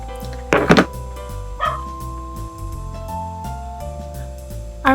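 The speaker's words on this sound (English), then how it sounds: "the dogs just barking for nothing" Dogs bark a couple of times at a distance, short sharp bursts heard over steady background music, with a muffled thump near the end.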